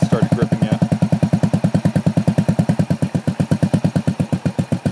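A motorcycle engine idling and pulsing while a rider tries to move off on grass, a fast, even, loud thumping chug repeating close by, with voices speaking over it.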